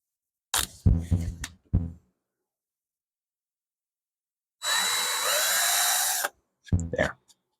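Power drill boring a short pilot hole into plywood for a box joint sled in a workshop, one steady high whine lasting under two seconds, with brief talk before and after.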